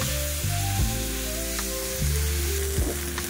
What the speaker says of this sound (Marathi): आता ही वांगी आपण तेलामध्ये छान असे परतून घेणार आहोत।